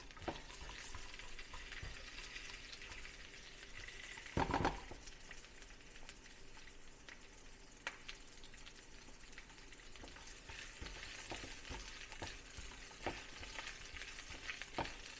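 Onions frying with ginger in oil over high heat give a steady, faint sizzle with occasional stirring scrapes and a brief clatter partway through.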